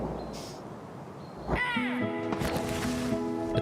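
Bird calls in a video game trailer: crow-like caws and a rising, sweeping cry, followed by several overlapping tonal chirps and whistles, fairly close and clear above a quiet ambient bed.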